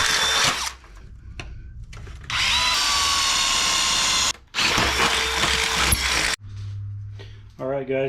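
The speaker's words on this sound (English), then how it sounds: "I'm going to drill them, then I'll be able to bolt that into a box" A power drill bores into aluminum angle pieces in several loud, close bursts of high whining and grinding separated by short pauses, with a person speaking near the end.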